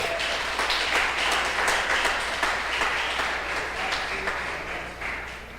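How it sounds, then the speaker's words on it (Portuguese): Steady applause from a church congregation fills the room, a dense, even wash of clapping with a low hum underneath and no clear gaps. "Você pode aplaudir o Senhor?"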